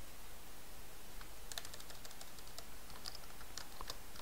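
Steady keyboard typing at a computer while database settings are edited, soft irregular key clicks over a low background hiss, with no voices.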